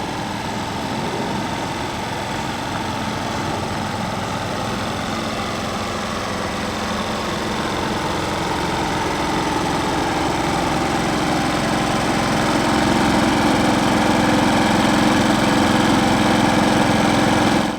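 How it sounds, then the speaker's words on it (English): A Briggs & Stratton PowerSmart inverter generator, either the P2200 or the P3000, runs steadily outdoors. Its even engine drone grows slightly louder as the listener walks closer, with no speech. "Check out the noise levels as we approach the generator."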